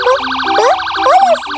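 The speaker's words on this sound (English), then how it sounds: "P for police car." A police car siren wails loud and close in a rapid warbling pattern, rising and falling continuously with a few brief bouncy cartoon-like tones layered over it.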